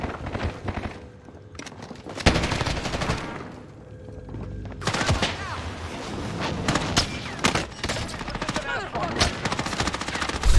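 Video game gunfire from Call of Duty Warzone rattles in loud automatic bursts and single sharp shots, near and dense, with a short quieter gap and voices talking intermittently.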